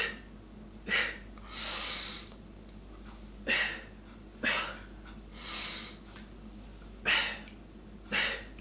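Slow, close breathing during a Pilates routine for back pain: about eight breaths, alternating soft drawn inhales and longer, airy exhales, quiet and evenly paced with no talking.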